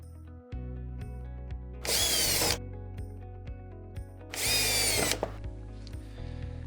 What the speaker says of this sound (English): begin screwing them down.